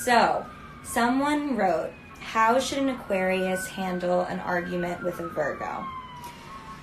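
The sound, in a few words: emergency vehicle siren passing in New York City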